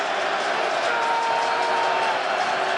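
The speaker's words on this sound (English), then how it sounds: "the crowd get involved into this game" A crowd at an XFL football game between the Orlando Guardians and St. Louis BattleHawks roars in a steady, broad wash of cheering that fills the stadium without letup.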